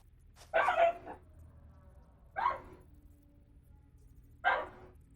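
A dog gives three separate short yips and whimpering barks, spaced a second or two apart against a quiet room background.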